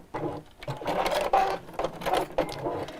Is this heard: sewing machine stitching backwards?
yes